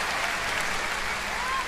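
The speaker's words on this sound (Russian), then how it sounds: "Аплодисменты!" Steady applause from a concert audience fills the clip, a dense continuous clapping wash that stays at an even level throughout.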